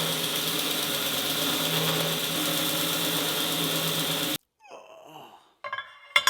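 A metal lathe runs with a steady mechanical hum and whine for about four seconds, then cuts off abruptly, leaving faint clanks and handling noises nearby.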